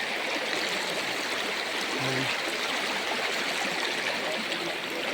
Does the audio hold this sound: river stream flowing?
yes